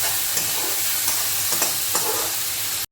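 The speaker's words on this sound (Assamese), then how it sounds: "এতিয়া একবাৰ অকণমান এনেদৰে লাৰি দিছোঁ।" Fish curry being stirred in a hot pan, with a continuous sizzling fry and a few soft scraping strokes of the spoon against the metal, steady and close with no voices.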